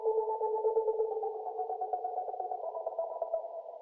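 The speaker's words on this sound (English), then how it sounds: "At the intro, I just added my own vocals, but I turned them into a synth and they sound like this." A sung vocal line processed into a synth-like tone with the Overvox plugin's Stepper synth preset, sustained and steady with a faint echoing tail, playing alone for about four seconds.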